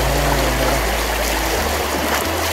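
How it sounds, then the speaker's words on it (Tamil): Deep stream water flows with a strong current, producing a steady, close rushing and trickling wash that fills the whole clip without any talk. "ஆழமாக இருந்ததுன்னா தண்ணி நல்லா கொஞ்சம் ஃபோர்ஸாக கரண்ட் நல்லா உள்ளே இழுக்குது"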